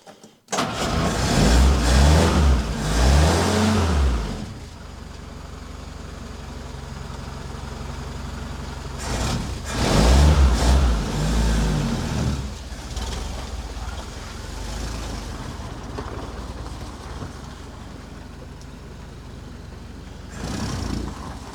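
A Willys Jeep engine, just fitted with a replacement carburetor, cranks and catches, then revs up and settles into a loud rough idle. It revs again and keeps running steadily nearby.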